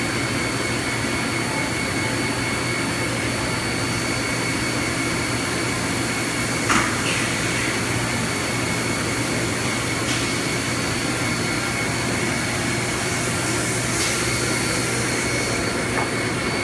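A printing plate-making machine runs with a loud, steady whirring roar that holds constant throughout, broken only by a few faint clicks and knocks as the plate is ejected.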